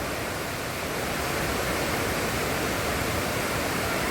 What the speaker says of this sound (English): The tree is surrounding by the waterfall.